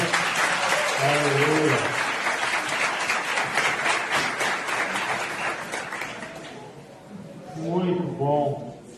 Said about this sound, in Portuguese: E a igreja pode aplaudir o Senhor.